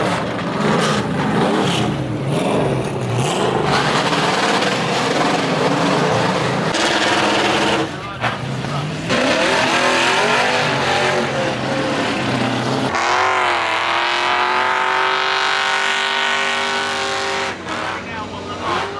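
American oval racing cars roar at the Shelsley hill climb paddock. Several loud engine surges and revs come and go from a distance. One long, rising tonal drone builds toward the end. Voices are heard at points.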